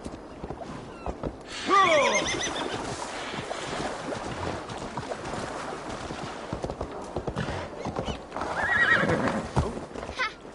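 In the video game Assassin's Creed Valhalla, a horse whinnies loudly, then again later, over steady clip-clopping hooves and a windy outdoor backdrop.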